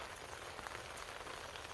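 Steady rain falls outdoors in the mountains while wild chwinamul is picked, a soft, even patter of drops on surfaces with no voices.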